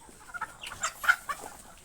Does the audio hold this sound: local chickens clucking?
yes